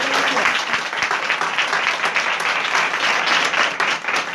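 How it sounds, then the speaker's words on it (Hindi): A church congregation applauding loudly, a dense, sustained wall of clapping that stays even and close for the whole stretch. "आज की सारी बरकत के लिए जोरदार तालियां बजाएं।"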